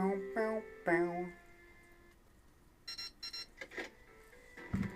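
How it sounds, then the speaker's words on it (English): A school bell chime plays in the video game 999, a few ringing electronic tones sounding clearly at the start, followed by quieter scattered clicks and bursts. "School bell."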